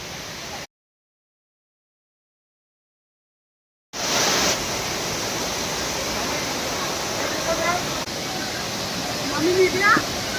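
Tandulwadi waterfall near Saphale roars as a dense, steady rush of water after a stretch of silence, with faint voices and chirps in the background.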